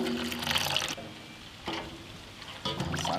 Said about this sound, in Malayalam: കുറച്ച് കുരുമുളക് പൊടി, കുറച്ച് മഞ്ഞൾപ്പൊടി, കുറച്ച് വെള്ളവും കൂടി ഒഴിച്ച് നമുക്ക് മിക്സ് ചെയ്തെടുക്കാം.